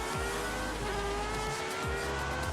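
A Pagani races through a hairpin in Forza Horizon 5, engine note rising and falling as it brakes and accelerates out, with brief tire squeals; loud and continuous, no talk.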